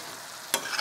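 Spoon stirring sour cream into chicken breast and vegetables in a hot pan: a soft, quiet sizzle, then two short scraping stirs near the end, close and alone.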